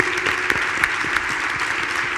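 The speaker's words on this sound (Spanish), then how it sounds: "Felipe, Augusto y Francisco, de verdad, reciben este aplauso" A room of students applauds panel speakers at a fintech talk, a brief, even burst of many hands clapping together with a few louder individual claps.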